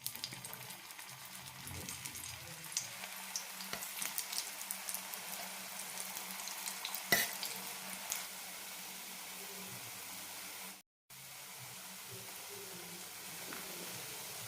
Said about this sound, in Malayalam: ഷാലോ ഫ്രൈ ചെയ്തെടുക്കാം.